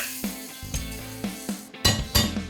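A spoon stirs chili garlic sauce into butter chicken gravy in a pan, giving several clinks and scrapes against the metal at a steady rhythm, close and moderately loud, with no talking.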